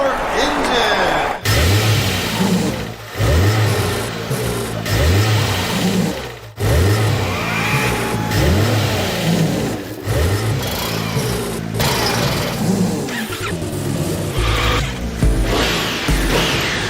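Racing cars in a Honda racing simulator game rev their engines at Circuit Zandvoort, with loud repeated rising engine bursts and a steady drone, heard throughout under a voice talking.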